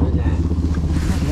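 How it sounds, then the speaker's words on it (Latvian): A boat motor runs with a steady low rumbling drone close by, while people talk over it for the whole short stretch. "Man jau motors pie ausīm dūdus."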